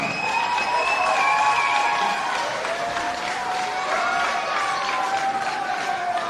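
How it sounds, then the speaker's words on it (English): A crowd applauds and cheers the winning team after a men's Premier League football match, Hellenic AC against Darwin Olympic. Continuous clapping runs throughout, with sustained tonal calls or whistles rising above it. "A round of applause for the winners."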